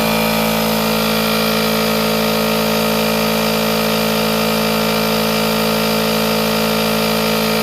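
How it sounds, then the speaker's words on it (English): A Milwaukee battery-powered tire inflator pump runs continuously, loud and close, with a steady high-pitched motor whine and buzzing compressor drone that holds for the whole stretch. "I'm also curious as to how long this battery will last with this pump on."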